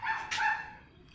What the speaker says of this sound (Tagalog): Yung aso namin nag-ingay na.